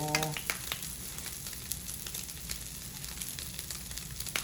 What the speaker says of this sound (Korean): 네, 이렇게 베이컨을 볶아줍니다